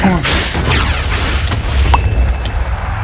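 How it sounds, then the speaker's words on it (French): Firework rockets in a Minecraft game: a dense run of booming blasts and crackling bursts, loud and close, layered over one another without a pause. "Bon, des feux d'artifice."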